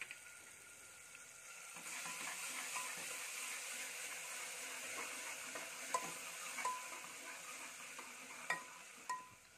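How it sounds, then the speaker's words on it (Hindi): Garlic-ginger paste with cumin sizzles in a hot pan, a steady soft frying hiss with occasional clicks of stirring, quiet and close with no talking. "ज़ीरा डालने के बाद हम इसमें लहसुन अदरक का पेस्ट भी डाल देंगे और इसे अच्छे से 2 से 3 मिनट के लिए भूनेंगे।"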